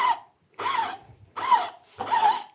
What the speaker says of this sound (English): refine it with the flat file